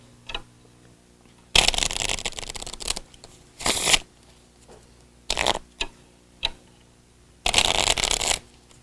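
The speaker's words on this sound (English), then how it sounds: "I'm going to shuffle them up just like this." A brand new deck of playing cards is shuffled in several loud, close riffling bursts with short pauses between them, with no talking.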